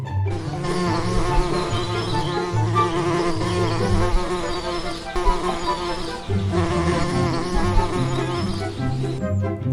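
Bees swarming thickly around a parcel of honey, a loud continuous buzzing drone with shifting pitches that fills the whole scene from start to finish.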